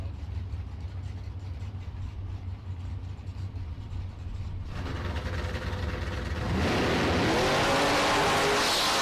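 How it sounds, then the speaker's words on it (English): Drag race launch of a yellow Camaro against an S10 Roadster: steady engine rumble at first, then a loud broadband roar surges as the cars pull away, with rising engine tones near the end. "Mike Cheney 605 in the Camaro in the left."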